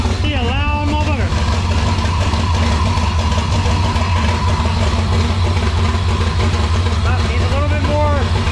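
A racecar engine idles loudly and steadily close by, a deep rumbling drone throughout, with a few higher whining tones near the start and end.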